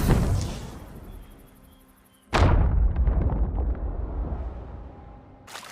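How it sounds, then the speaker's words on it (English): A gunpowder keg explodes in Sea of Thieves, a sudden loud booming blast after a quieter stretch, trailing off into a rumbling, crackling decay before another burst starts at the end. "After lighting a keg, it takes 5 seconds for it to explode."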